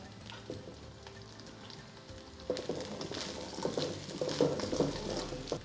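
Coconut pieces sauté with shallots, chili, ginger and garlic in a pan, a soft sizzle that swells after a quiet start, with light crackles and occasional stirring.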